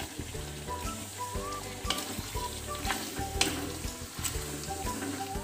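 Tomatoes sizzle and fry in a pan with meat and potatoes, giving a steady crackle with scattered pops and occasional stirring scrapes. The cooking is close and fairly quiet, and no one talks.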